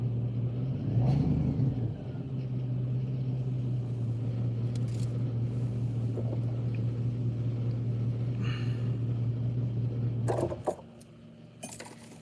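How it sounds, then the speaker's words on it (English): A BMW car engine hums steadily nearby for about ten seconds, a sustained low drone with a slight rev at the start, then cuts off, leaving faint clicks and light background noise. "I heard that BMW somewhere"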